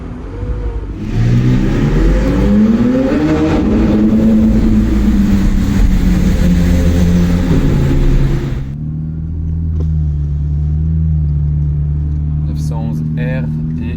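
A McLaren 720S Mansory supercar driving through the casino square, its engine loud and rising in pitch for about eight seconds before dropping to a steadier low drone, with a faint voice under the engine noise.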